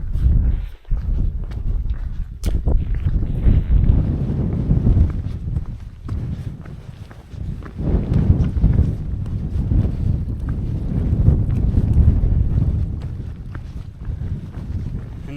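Outdoors in the Brecon Beacons, strong wind buffets the microphone in loud, continuous gusts that rise and fall throughout, with a few faint knocks mixed in.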